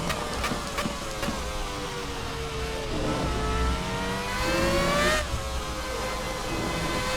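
Race car engine at full throttle on the Imola circuit in a racing video game, a steady loud high-revving drone with rising pitch sweeps as it accelerates and shifts, heard alone without talk.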